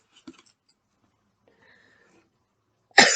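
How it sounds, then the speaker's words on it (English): A woman lets out a single sharp, loud cough close by after a short, faint throat noise and a near-silent pause. "now I'm going to cough"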